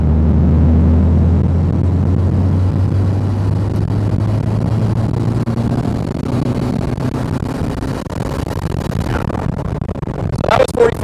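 A rebuilt Nissan SR20 engine running at 40-60% throttle during break-in, a loud steady drone that eases off midway, then fades as other sounds come in near the end.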